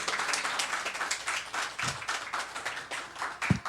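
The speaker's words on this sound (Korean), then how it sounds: "큰 박수로 환영하겠습니다." Steady applause from a church congregation welcoming a pastor at a Sunday service, many hands clapping evenly for a few seconds, moderately loud and without talk.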